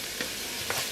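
Sofrito cooking in a pan for Bolognese ragù, a steady low sizzle and crackle throughout with a couple of soft stirring scrapes, close and fairly quiet.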